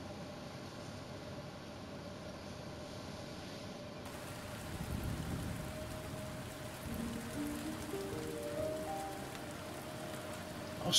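Rain falls on a cold stormy night in the village scene of the video game The Spirit and the Mouse, a steady patter of drops under a low, soft background hum, quiet and continuous.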